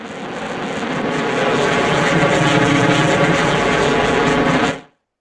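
A loud, steady F-15 jet engine roar in the video game Arma 3 that builds up over a few seconds, holds, then cuts off abruptly into silence.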